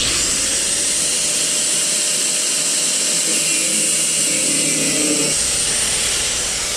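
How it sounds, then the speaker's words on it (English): A cutoff wheel grinds through a steel tie rod on an S550 Mustang, making a loud, continuous high-pitched whine that holds steady for several seconds and then drops in pitch near the end. "I'm gonna just use my cutoff wheel to cut the tie rod"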